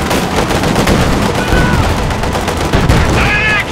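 Rapid bursts of gunfire in the Company of Heroes video game, loud dense volleys firing continuously and close, with faint game voices over the shooting.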